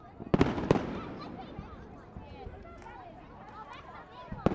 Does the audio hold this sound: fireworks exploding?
yes